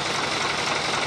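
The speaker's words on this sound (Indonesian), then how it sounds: "ini mesin sudah hidup ya" A Mitsubishi Fuso 220 PS or Hino Lohan 500 truck diesel engine runs steadily at close range, its dense rattle carrying a clattering knock from the timer area with no talk over it.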